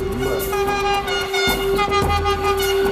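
A train approaches with a steady, sustained horn tone over rumbling rail noise, loud and close throughout.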